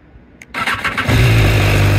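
A 2020 BMW S1000R Sport motorcycle engine starts up close by: a brief starter whir, then the engine catches and settles into a loud, steady idle.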